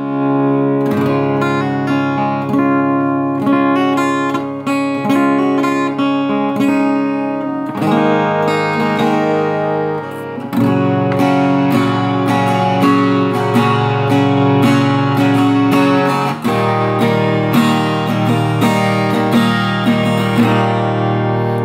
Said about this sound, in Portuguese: Então, esse é o som do violão,